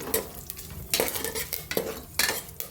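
Tomato chicken masala with curry leaves is roasted in a pan, heard as a close, busy sizzle broken by quick rhythmic scrapes of a spoon stirring against the pan, several strokes in under three seconds.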